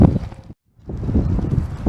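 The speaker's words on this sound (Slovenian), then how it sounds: "Mrzel veter veje." Cold spring wind blowing outdoors on a walk, a steady broadband rush with rustling buffeting the microphone, dropping out briefly before returning strongly.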